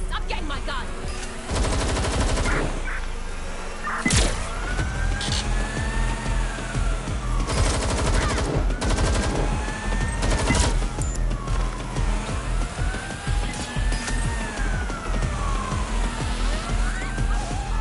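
Gunfire in Watch Dogs: Legion, repeated shots and bursts over a constant game soundscape with music, loud and near, with a few scattered sharp impacts throughout.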